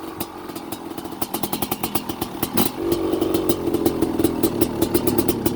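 A Honda CR500R two-stroke motorcycle with a balanced-crank 512cc big-bore engine runs close by, popping in a rapid staccato rhythm that builds into a steady, loud, raspy drone.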